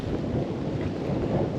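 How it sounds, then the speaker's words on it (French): Wind buffets a microphone at the seaside near coral and a ladder down to the water, a steady, loud low rumble that fills the short stretch with no voices. "Là il y a du vent donc voilà."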